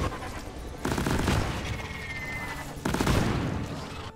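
Explosive blasts from the Lok-1 smart rifle build in the video game Deep Rock Galactic: two loud bursts at close range stand out over continuous game noise and gunfire.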